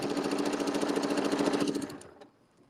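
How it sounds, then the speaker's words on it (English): A sewing machine with a circle sewing tool stitches an appliqué disc for a Christmas motif, running in a quick, even rhythm for about two seconds before it slows and stops. "isn't this easy to let the circle sewing tool turn it for us?"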